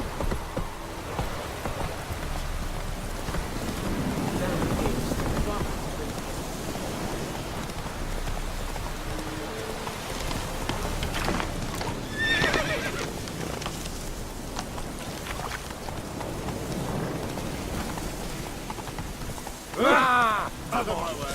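A horse gallops and neighs in the video game Witcher 3. Hoof clatter runs under steady rainy ambience, with whinnies rising around the middle and again near the end. Spoken game dialogue can be heard throughout.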